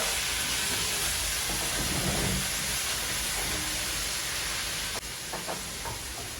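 Prawns fry in oil with a constant loud hiss and sizzle, broken near the end by a short knock and a few light clatters, with no speech.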